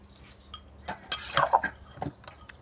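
Dishes and utensils clink lightly while papaya salad and fried mackerel are served onto a plate, a few close, sparse taps and scrapes with a busier clatter in the middle of a quiet kitchen.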